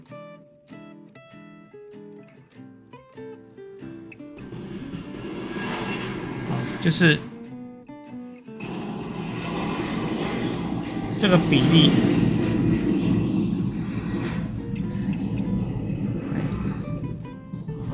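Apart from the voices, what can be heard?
airplanes taking off and landing near airport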